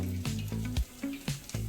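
Mustard seeds pop and fry in hot oil for a home chicken curry, sharp crackling bursts landing every fraction of a second over a close, steady sizzle.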